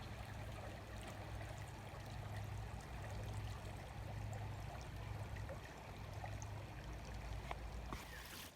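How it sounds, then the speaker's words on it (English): The little Harpeth River flows steadily on a nature walk, a constant soft wash of running water with faint trickles, fairly even and moderately quiet throughout. "I especially love the sound that the river makes."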